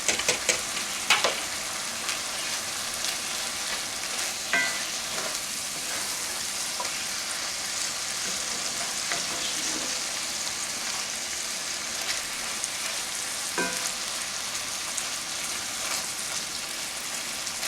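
Ground turkey frying in a pan with onions and garlic, a steady close sizzle with occasional stirring scrapes and crackles throughout, no talking.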